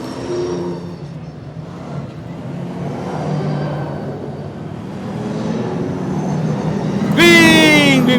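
Race cars at a 2009 European Le Mans Series round pull away at the green flag, a building engine rumble with a rising whine near the end, heard under a commentator's voice.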